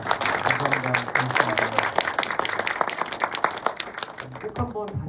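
A cinema audience at a first-anniversary guest-visit screening at a Seoul art cinema applauds a director. Dense, sustained clapping fills the room for several seconds before thinning out, with a voice speaking briefly over it near the end.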